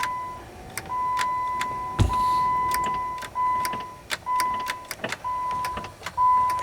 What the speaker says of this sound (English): You can hear some sort of a click